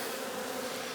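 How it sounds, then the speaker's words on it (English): Honeybees swarm around an opened hive during a walkaway split in Newfoundland, buzzing defensively in a dense, continuous drone that sounds close and loud, with no talking. "there's a couple of them that are flying around like wasps, so that's not a good sign. That usually means they're getting defensive."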